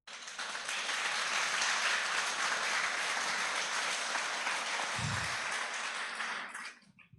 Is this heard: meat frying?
no